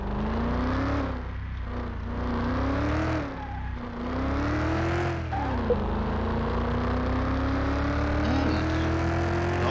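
A car driven in the Car Mechanic Simulator 2021 video game, with a steady engine drone that rises and falls as it revs and shifts, continuous and fairly loud, with no talking.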